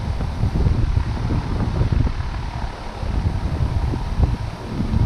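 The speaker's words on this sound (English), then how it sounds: "We get little gusts every now and then." Strong wind from Hurricane Florence buffets the microphone in loud, rumbling gusts that rise and fall continuously, with no one speaking.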